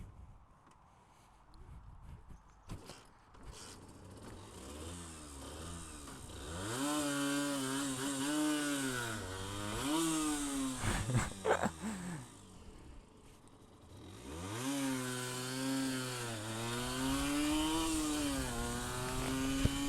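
A Honda NSR 50 motorcycle's small two-stroke engine buzzes nearby, revving up and down in repeated rising and falling waves between stretches of rough idle.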